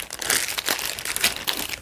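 Plastic zip-lock bag crinkling up close, a busy stream of crackly rustles and crunches lasting a couple of seconds.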